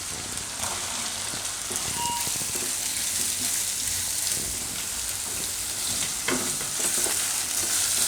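Bottle gourd fries in a pan with chillies and garlic, giving a steady, even sizzle broken by occasional scraping stirs, with no voices.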